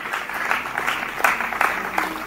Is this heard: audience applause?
yes